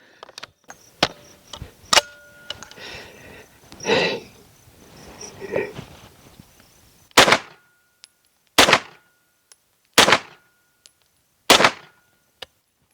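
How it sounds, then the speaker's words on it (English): Four loud, sharp pistol shots fired at a steady pace through a fake suppressor muzzle device, each a clean isolated crack with short decay, following a stretch of quieter handling noises and muffled bumps. "We're gonna take 4 shots with the fake suppressor and we're gonna compare it to the blast shield and see how different it sounds."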